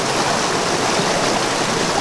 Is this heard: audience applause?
no